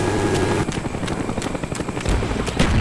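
A friendly Cobra attack helicopter in Call of Duty Black Ops multiplayer on PC thuds with a rapid rhythmic rotor chop, steady and fairly loud throughout.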